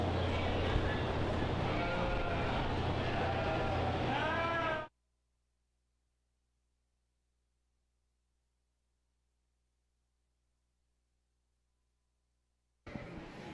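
Ewe bleating at a county sheep show: several loud, wavering bleats close by over steady background noise from the show, then about eight seconds of silence before the noise comes back at the end.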